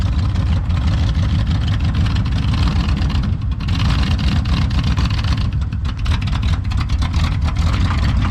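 Engine of an abandoned 1979 Chevrolet running on a little throttle, a loud close rough rumble that holds steady with slight dips and rises and no talk over it.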